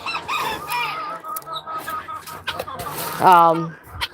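Frizzle and silkie hens, including a white frizzle, cluck and call close by in a poultry yard, with a louder drawn-out squawk near the end and a person talking over them.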